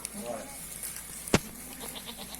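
Goats on a goat cheese farm, a faint bleat early on amid barn ambience, followed by a sharp bang midway and light background voices.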